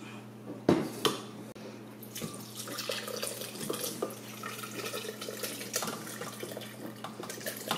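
Cooked habanero hot sauce mixture is poured into a blender, giving a continuous wet sloshing pour with a few clinks of cookware near the start, moderately close over a steady low hum.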